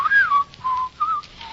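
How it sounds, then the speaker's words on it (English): A person whistles a simple tune during a radio drama, a few clear sustained notes with short gaps between them, close and alone with no talk. "Shan't whistle. Go outdoors and whistle in the street."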